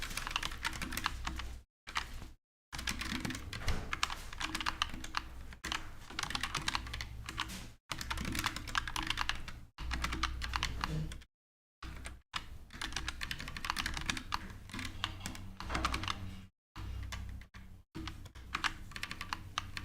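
Rapid keystrokes clatter on a computer keyboard during a Monkeytype typing test, close and steady in bursts broken by brief silent gaps, no talking.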